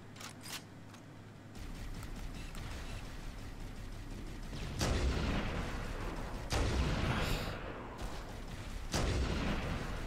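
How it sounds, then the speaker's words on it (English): Rocket launcher fire and explosions in the video game Halo: Combat Evolved, several heavy booming blasts over a continuous rumbling battle din, with no talk. "They all have rocket launchers."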